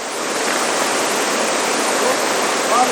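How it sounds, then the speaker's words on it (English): Loud, constant roar of a waterfall at a dam on the Westfield River, a dense unbroken rush of falling water heard up close. "It probably starts behind that waterfall."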